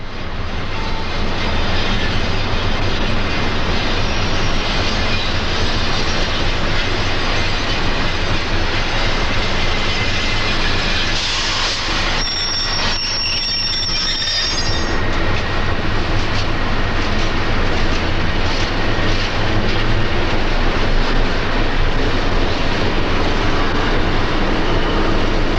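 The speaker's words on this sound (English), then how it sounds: "A South Shore train picks up passengers before heading south and east." A South Shore interurban electric train runs at a station, giving a continuous loud broadband rumble and hiss, with a brief dip in level midway and a rise again toward the end.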